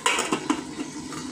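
A metal lid clatters onto a pot of boiling chicken adobo in a home kitchen, several light clinks and knocks in close succession against a steady simmering hiss, with no talk.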